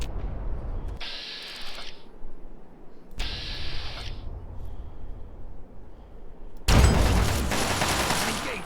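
A massive gun fired in the Fallout 3 Operation Anchorage game, sharp hissing bursts in three separate volleys, the last one louder and sustained, over low rumbling background noise.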